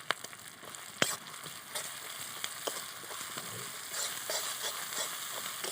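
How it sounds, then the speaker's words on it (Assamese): Crushed ginger and garlic sizzle in hot oil in a pan with cumin and chillies for a village-style duck curry, a steady close frying hiss with occasional stirring clicks. "এইখিনিও কেঁচা গোন্ধ নোযোৱালৈকে অলপ ভাজিম"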